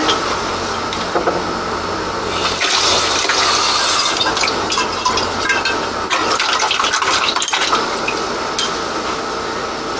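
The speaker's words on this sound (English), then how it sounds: "I was just rinsing the rest of the sediment out of the bottom of those." Running water gushes and splashes continuously while wine bottles are rinsed of sediment, loud and close, with faint clinks and brief interruptions midway and no talk.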